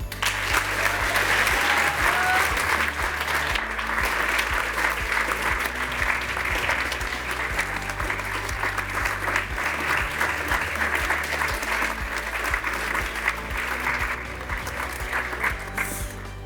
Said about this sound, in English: a huge round of applause for Sequinova